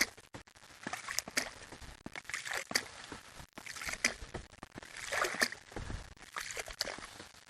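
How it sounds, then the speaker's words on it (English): A pump is worked up and down in a foam machine's liquid solution, making wet sloshing and splashing strokes in an irregular rhythm, close and fairly quiet, with no talking. "Let's put the pump in, and we're just going to take it up and down, kind of mix our solution."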